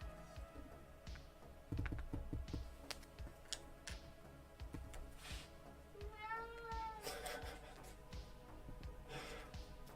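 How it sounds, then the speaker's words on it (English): A house cat meows a few times near a computer during a hobby stream, the calls faint and mixed with keyboard typing, mouse clicks and desk noises in a quiet room. "Also not sure if you can hear my cat meowing."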